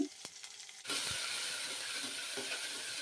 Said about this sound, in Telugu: ఈ ఎర్రగడ్డలు ఎర్రగా వేగేంత వరకు వేయించుకోవాలి